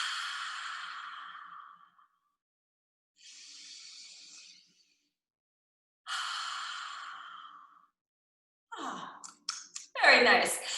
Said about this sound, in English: activate the diaphragm in this kind of powerful, controlled exhale